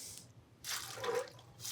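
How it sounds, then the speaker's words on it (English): Cooked black-eyed peas rinsed under running tap water in short bursts, a close splashing gush that starts, pauses and starts again, with no talking. "Running water through them."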